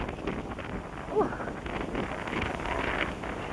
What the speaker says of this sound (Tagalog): Grabe hangin, lakas.